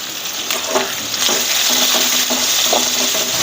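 Chopped onion fries in a pan with a loud continuous sizzle, and stirring adds periodic scraping strokes over the steady crackle.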